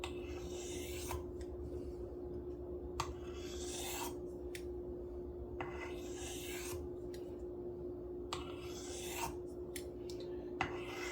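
Pocket knife blade stroked across a coarse whetstone under its own weight, giving a series of raspy, gritty swipes that repeat every second or two over a steady low hum.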